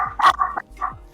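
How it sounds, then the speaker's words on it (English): A toothless dachshund barks in an apartment: a few sharp, close yips and woofs in quick succession, with short gaps between them. "Toothless wiener dog."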